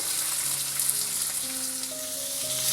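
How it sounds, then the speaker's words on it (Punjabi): One large chopped onion frying in hot oil with cumin seeds, stirred in the pan for about a minute for an okra dish: a bright, constant sizzle close up, with faint scraping and no speech. "ਪਿਆਜ਼ ਨੂੰ ਆਇਲ ਦੇ ਵਿੱਚ ਮਿਕਸ ਕਰਕੇ ਨਾ ਆਪਾਂ ਬਸ 1 ਮਿੰਟ ਤੱਕ ਭੁੰਨਣਾ ਹੈ"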